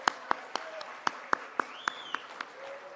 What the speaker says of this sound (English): But let's say happy birthday and give a big round of applause to Mr. Cameron Fight James.